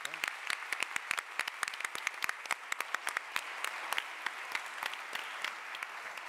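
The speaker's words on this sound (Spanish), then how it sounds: "un aplauso final para todos los panelistas" An audience at the close of a panel event on Argentine development and a new social pact claps for the panelists, in sparse but steady applause with a voice speaking faintly beneath.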